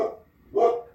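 Dog barking, two short close barks separated by a brief pause, the second louder and fuller.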